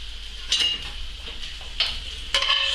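A spoon scrapes and taps against a frying pan as mushrooms are basted alongside pigeon breasts, with a few distinct metallic clinks spaced out over a steady low hum and soft sizzle.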